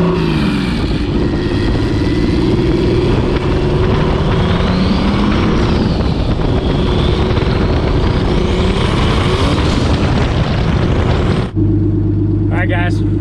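A BMW-engined Zkart runs loudly up close while driving, its engine note rising and falling in a continuous roar with heavy rumble, then stopping abruptly near the end for a brief steady hum.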